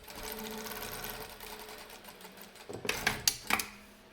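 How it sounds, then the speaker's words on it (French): Overlock serger stitching a trouser seam: a steady, close mechanical whir with rapid rhythmic chatter, then a few sharp clicks and clacks near the end as it stops, with no voices. "Donc maintenant, j'ai surjeté l'assemblage précédemment fait."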